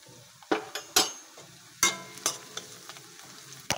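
Nigella seeds, dried chili and chopped onion fry in oil in a pan, with a steady low sizzle broken by several sharp stirring scrapes and clinks of a utensil, close and moderately loud, with no talking.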